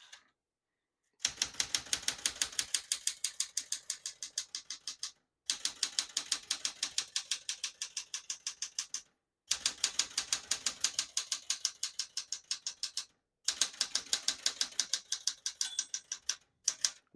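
Rapid keystrokes clatter on a 1974 Smith-Corona Classic 12 portable typewriter, loud and close in four fast bursts separated by short pauses.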